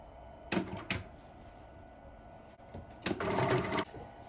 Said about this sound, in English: we're gonna take this over to the sewing machine and we're going to do a stitch right along the edge all the way around